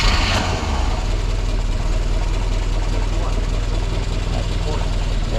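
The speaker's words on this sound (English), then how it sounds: "we cross our fingers as we attempt to start the engine" A boat engine idles loudly and continuously after a brief catch at the start, with a low rumbling drone throughout.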